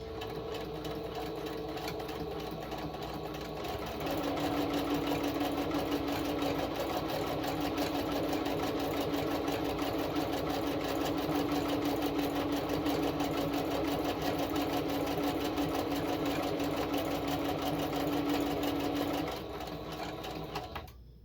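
Sewing machine stitching a zigzag, a close, steady mechanical whirring hum that speeds up after a few seconds, holds for about fifteen seconds, then slows and stops, with no talking.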